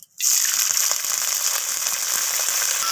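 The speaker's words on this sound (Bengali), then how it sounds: "নিম পাতাগুলোকে আমি এইভাবে নাড়াচাড়া করে একটু তরতরে করে নিম পাতাগুলোকে আমি ভেজে নেব" Washed neem leaves hitting hot mustard oil in a kadai, a sudden loud crackling sizzle that starts after a brief silence and carries on steadily with scattered pops, close up, with no talking.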